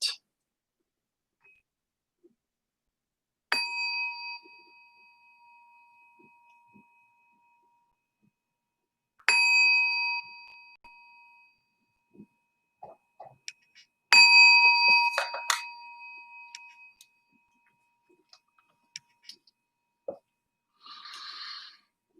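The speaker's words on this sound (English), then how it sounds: "let's just begin with 3 sounds of the bell" A meditation bell is struck three times in a quiet room, each ring a clear bright tone that lingers and slowly fades, with the third strike followed by a few soft, faint rustling noises.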